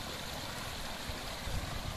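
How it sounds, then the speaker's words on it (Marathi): Water gurgling and flowing from a pond swollen by heavy rain near farm fields, a steady broadband rush that stays constant for two seconds with a slight swell near the end, no voices. "आता आपल्याला या ठिकाणी पाण्याचा खळखळाटही ऐकू येत असेल."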